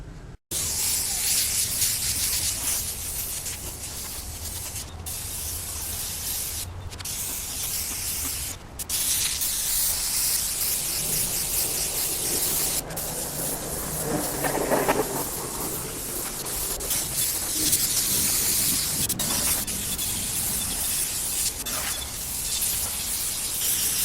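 An Iwata airbrush sprays black paint onto motorcycle trim during an FZR restoration, giving a steady close hiss that runs unbroken with a few brief dips.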